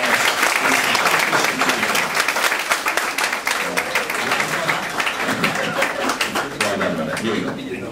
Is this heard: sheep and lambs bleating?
no